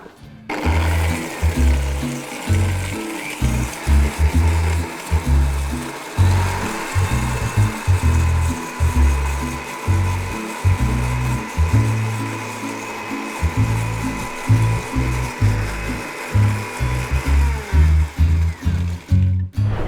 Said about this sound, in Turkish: Şimdi hepsini pürüzsüz olana kadar karıştıracağım